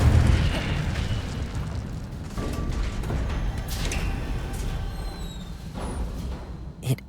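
Fire spell Incendio cast in the video game Hogwarts Legacy, a dense rumbling burst of magical flame and booms layered with game effects and a sharp pop near the end.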